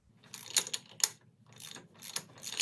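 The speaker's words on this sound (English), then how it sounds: "just with 1 inch and 1/8 socket, tighten up the nut." Ratchet fitted with a 1 1/8 inch socket tightening a nut on a Willys Jeep emergency brake assembly, giving several quick bursts of metallic clicking with short pauses between strokes, close and distinct.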